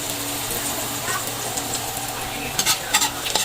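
Onion, garlic and ginger sautéing in a pan for a crab in coconut milk dish, a steady broadband sizzle with stirring and a few sharper utensil scrapes near the end.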